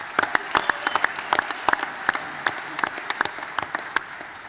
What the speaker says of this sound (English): A cracker of a round of applause for Mac Williams.